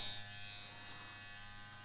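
A Bronc Tough wireless stroke-adjustable tattoo pen runs at 8 volts with a steady, close, high-pitched electric buzz that holds evenly throughout.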